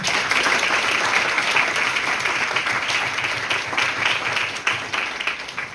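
A hall full of delegates applauds steadily after a resolution is adopted by consensus at a model UN general assembly session, dense clapping holding at an even level throughout.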